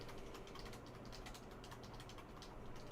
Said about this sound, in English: I hope you guys can hear Victor typing, it's really cute